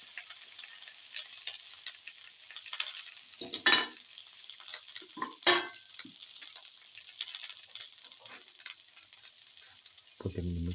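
Tomato pieces fry in a pan with a thin, high hiss of sizzling, broken by a few scraping stirs and soft clatters, moderately close, with a low thump near the end.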